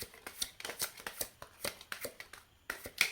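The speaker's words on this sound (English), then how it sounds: "I like to shuffle and get a flyer to start the process off" Tarot cards being shuffled by hand in a quiet room, a rapid series of soft riffling snaps and flutters in an irregular rhythm, close and faint, with no talking.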